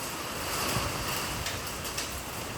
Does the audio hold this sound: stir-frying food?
no